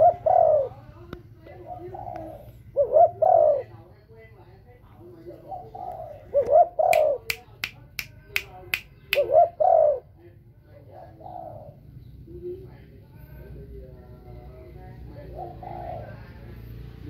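A decoy dove coos in repeated low phrases at moderate distance, with a short burst of sharp clicks or snaps midway and faint background hum, no talk.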